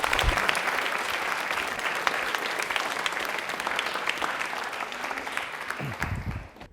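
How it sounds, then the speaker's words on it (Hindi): A studio audience on a televised quiz show gives a loud round of applause, many hands clapping densely and steadily for several seconds before it tapers near the end. "तालियां एक बार ऋषित के लिए जोरदार बजा दीजिए।"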